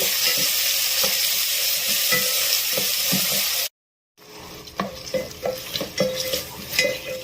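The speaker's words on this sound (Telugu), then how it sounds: "ఇప్పుడు నేను టమాటోస్ వేసుకుంటున్నాను ఈ టమాటోస్ కూడా కొంచెం ఆయిల్లో మగ్గించుకోవాలి" Tomatoes and onions frying in oil in a pan for a mutton and cucumber curry, with a loud, continuous close sizzle and stirring clatter, broken by a brief silent gap before the frying resumes.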